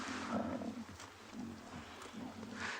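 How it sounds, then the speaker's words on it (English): Lion cubs growling on a wildlife kill, low rumbling growls rising and falling continuously, fairly faint and somewhat distant. "a lot of that growling that you're hearing is actually the cubs"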